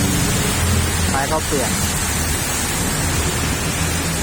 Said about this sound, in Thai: มานั่งรอให้ฝนหยุดตก